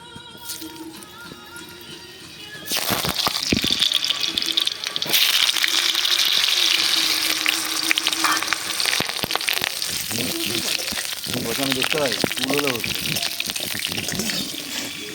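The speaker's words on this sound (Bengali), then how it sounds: "আলুটা প্রথমে ভেজে নেব, তেলটা গরম হলে আলুটা ছেড়ে দেবো" Hot oil sizzles loudly and continuously as potatoes fry over a wood fire, preceded by a quieter stretch, with clattering and stirring noises throughout and no talk.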